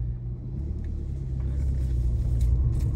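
A Volkswagen GTI idles with a steady low engine rumble before setting off on a drive through Hawaii streets, continuous and close, with no talking.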